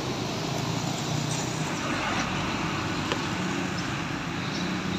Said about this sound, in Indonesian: Kondisi lalu lintas seperti ini sudah mulai ramai.